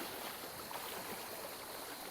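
Sea waves surge into a rocky cove at Delik Deniz near Gazipaşa, a steady soft rushing and washing of water, fairly faint and continuous, with no voices.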